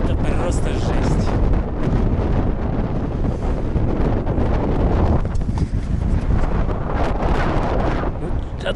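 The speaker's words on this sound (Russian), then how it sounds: "Откуда этот ветер взялся, я не понимаю ничего," Strong gusty wind buffeting an outdoor microphone on an open stretch of road near Gusinoozyorsk on the way to Baikal during an evening storm, a loud continuous roar with rumbling low-end bursts throughout.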